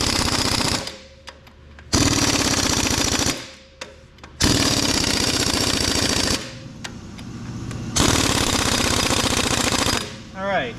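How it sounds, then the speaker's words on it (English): Pneumatic impact gun tightening bolts on an Allis Chalmers grader, several loud rattling bursts of a second or two each, separated by short pauses with hissing air and faint shop noise. "we're going to go ahead and tighten these down with the air gun"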